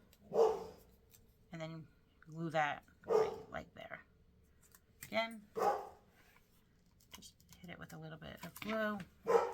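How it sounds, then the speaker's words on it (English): A dog barks in short separate bursts in a home while a person talks nearby through a paper-flower gluing demonstration, the barks fairly close and interleaved with the speech. "Of course, that's my dog barking."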